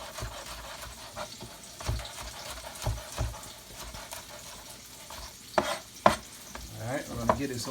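A saltfish rundown is stirred in a pot, with a spoon scraping and knocking against the sides over a soft simmer, the strokes irregular and getting sharper toward the end.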